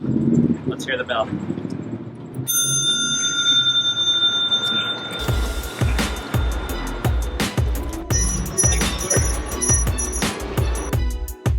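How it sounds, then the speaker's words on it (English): A child's bicycle bell rings in a steady series of bright, sharp dings, repeated roughly every half second over several seconds, close and loud, with people talking at the start. "Let's hear the bell."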